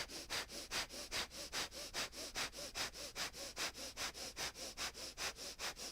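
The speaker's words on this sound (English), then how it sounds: "begin breath of fire" Rapid, forceful nasal breaths in yogic breath of fire pump out in a fast, even rhythm, about four sharp sniffing pulses per second, close and alone for the whole stretch.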